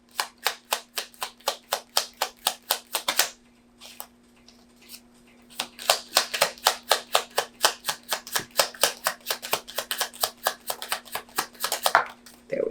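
Tarot cards shuffled by hand in quick, rhythmic crisp riffles close up, one run, a brief pause, then a longer run over a faint steady hum, with no talking.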